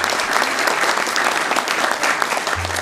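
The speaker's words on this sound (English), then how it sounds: "Let's give them a round of applause," An indoor audience at a Sacramento city council meeting applauds steadily, a dense, even wash of many hands clapping at close range for the whole stretch, with no voices standing out.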